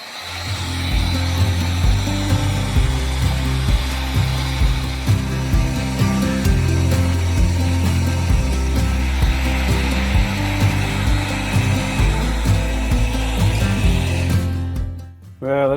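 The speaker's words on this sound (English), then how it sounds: "I've got my heat gun here. I'm going to try and just heat it all around gradually" A heat gun blasts continuously and loudly as it heats a part on a 1931 AWA Radiola radio to loosen it, a steady airy roar with a faint whining hum throughout that cuts off at the end.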